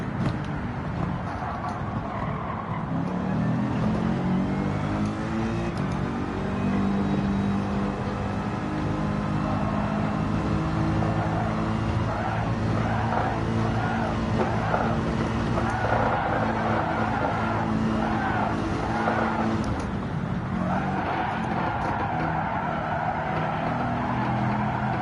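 A GT3 race car in Gran Turismo 7 drives hard on track, its engine roaring steadily throughout with shifting revs and some tyre scrub, loud and continuous, with a voice occasionally talking over it.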